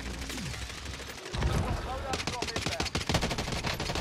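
Rapid automatic gunfire in a Call of Duty: Warzone match, bursts of shots rattling close and loud amid chaotic battle noise, with voices talking underneath.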